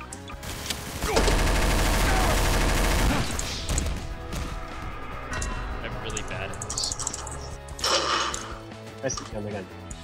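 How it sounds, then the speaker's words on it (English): Rapid gunfire in a Garry's Mod prison-break game, a dense loud burst early on followed by scattered shots and clatter, with people talking over it. "He's shooting at us."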